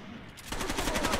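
Rapid automatic gunfire from the video game Rainbow Six: Vegas 2, a fast regular burst of shots starting after a brief quiet lead-in, loud and close with no talk.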